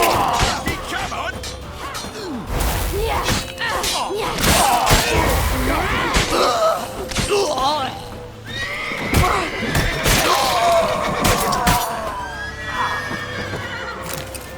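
A horse in The Witcher 3: Wild Hunt whinnies loudly several times amid hoofbeats, thuds and clatter, with shouting voices mixed in.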